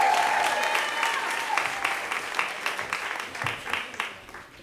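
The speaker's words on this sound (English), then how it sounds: "How about a round of applause for Christina Strack?" An audience at a Moth StorySLAM applauds steadily, many hands clapping together in a sustained burst that gradually thins out toward the end.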